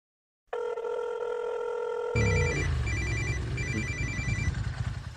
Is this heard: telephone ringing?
yes